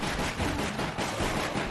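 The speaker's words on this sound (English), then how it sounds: "I'm sure all this gunfire won't attract him." Dense, rapid gunfire from the video game Resident Evil Darkside Chronicles rattles almost without pause, loud and close, in a short continuous burst of overlapping shots.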